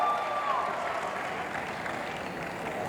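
Crowd applause at the Citadel: Honey Bunny teaser launch event, a brief wash of clapping and cheering, fairly quiet and steady with a faint whistle-like tone early on.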